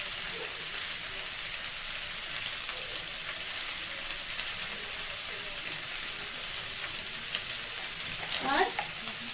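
Frying for sambar dal is heard as a soft, even sizzle, fairly quiet and rain-like, with a brief stirring scrape close by near the end.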